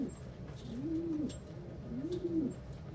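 Pet pigeons or doves cooing at breakfast time, two soft, rolling coo phrases close to the microphone over a quiet room hum.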